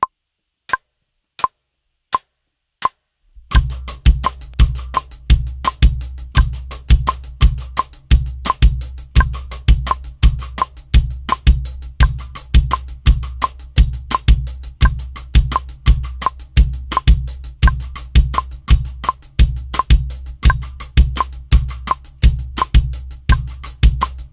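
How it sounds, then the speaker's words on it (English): A few sharp clicks count in, then a steady drum groove with low kick thumps and crisp woody cross-stick clicks repeating in even rhythm. "you could play a cross stick"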